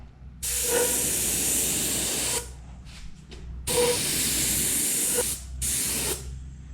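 A spray gun at 30 PSI sprays ceramic coating onto a Honda CRX Si exhaust part, hissing in two long bursts of about two seconds each, with short quieter puffs between, loud and close over a steady low hum.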